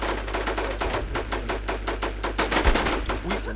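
Rapid automatic gunfire from a shooting video game rattles in dense, evenly spaced bursts, loud and close over a constant low hum.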